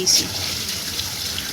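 Water pours from a bucket onto a young lemon tree outdoors, a steady splashing wash with a brief louder gush at the start, and a voice faintly audible underneath.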